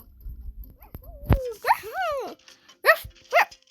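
A handful of sharp, high-pitched barking yelps ring out close by, in short bursts with brief pauses between them.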